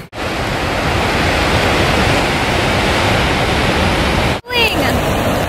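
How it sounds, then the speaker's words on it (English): Hail pounds down in a steady, loud broadband roar during a storm in Iceland, almost without pause, then a brief break near the end before the clatter resumes. "What number hailstorm of the trip is this?"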